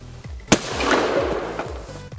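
A single sharp AK-47 rifle shot cracks out loud and close at a shooting test into a clay target, followed by a lingering rumble and echo with faint clatter.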